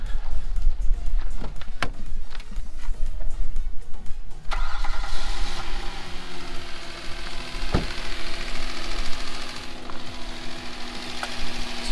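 A car engine cranks over and catches at about four and a half seconds, then settles into a steady loud idle that runs to the end, with no talk over it.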